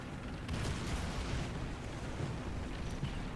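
Dull, rumbling artillery blasts and booms roll through a tank battle in War Thunder, a continuous low, muffled barrage at moderate distance without distinct sharp peaks.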